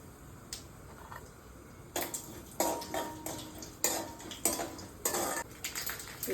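Mustard seeds, cumin, urad dal and chana dal temper in a pan under a faint crackle, while a spoon scrapes and clinks against the metal in repeated, rhythmic strokes.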